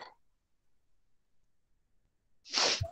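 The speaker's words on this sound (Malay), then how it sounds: "dah nak bersin" A lecturer sneezes once during a recorded online finance class. The short, sharp burst comes near the end, after a few seconds of near silence.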